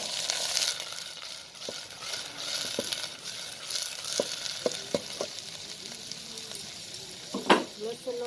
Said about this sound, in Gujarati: લસણનો વઘાર બારે તો સારી શાક લાગે